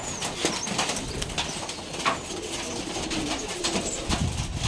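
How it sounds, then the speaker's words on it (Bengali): Pigeons coo steadily in a loft kept on abandoned ground, with soft overlapping calls and a few low flutters under a constant room hum. "এখন অনেকগুলো কবুতর আর ওগুলো কবুতর কন্ট্রোল করা খুব টাফ"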